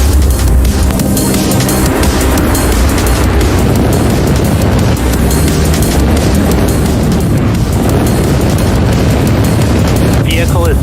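A SpaceX Falcon 9 lifting off from LC-39A at Kennedy Space Center, a continuous loud, crackling roar that fills the whole stretch without letting up.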